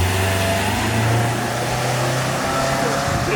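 A hybrid car launching at full throttle, its engine note droning steadily and loud throughout as it accelerates hard, with a broad wash of road and wind noise.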